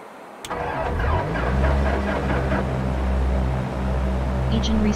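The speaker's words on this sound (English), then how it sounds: "Engine restarted." An aircraft engine restarts in the X-Plane flight simulator after an engine failure: a starter whine kicks in, then a steady low drone settles and holds, loud and close.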